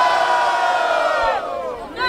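A large crowd at a rap battle event roars with loud cheering and shouting, a dense wall of excited voices close by, dipping briefly before rising again.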